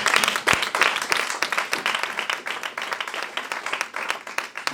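A church congregation applauds and claps together, a dense, continuous patter of many hands at moderate distance that rises and falls slightly over a few seconds.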